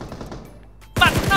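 Gunfire in PUBG Mobile bursts in loud and sudden after a quieter stretch of background game noise, a rapid run of close shots packed into the final moment.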